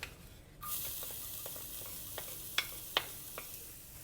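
Chopped garlic sizzles and crackles in hot oil in a clay pot, a steady close frying hiss with scattered sharp pops and light stirring clicks, no voices.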